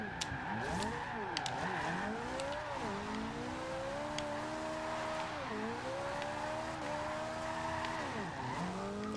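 A Toyota MR-2 SW20 engine revs in the Forza Horizon 2 racing game, its pitch climbing and dropping through gear changes in a continuous loud drone, with tire squeal mixed in.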